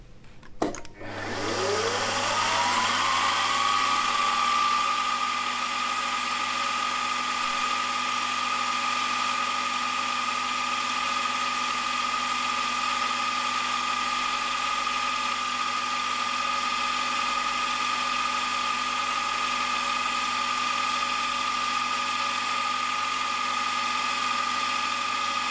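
A sensitive hand-fed bench drill, used for fine drilling on a small brass carburettor body, starts with a click and spins up. It settles into a steady, even motor whine that runs alone without pause.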